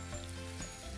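Meatballs sizzle in a frying pan, a steady close crackling hiss with a constant oily spit throughout the brief moment.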